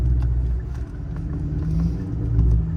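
Car floored at full throttle in sport mode in first gear, a loud, steady low engine rumble close by with no break in the sound.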